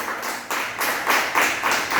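A church congregation claps hands together in a dense, rhythmic burst of applause offered in worship, roughly two claps per second, loud and filling the room, with no voices heard.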